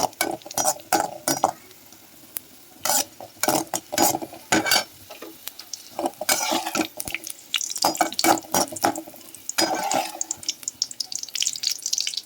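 Raisins fry in hot ghee in a pan as payasam is made, with a spoon stirring in repeated bursts of scraping clatter over a steady soft sizzle, close and fairly quiet, no voices.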